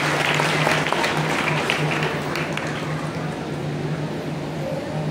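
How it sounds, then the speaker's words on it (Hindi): Audience applause welcoming the chief guest, a member of parliament, onto the stage at a public event; dense, steady clapping fills the whole stretch without letting up, with a faint hum underneath. "जोरदार ताली बजाते रहेंगे, स्वागत किया जाए।"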